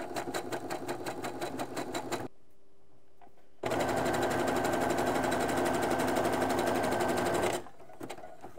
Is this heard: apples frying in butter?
no